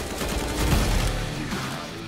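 Video-game gunfire erupts in a dense, loud burst of overlapping shots lasting about two seconds.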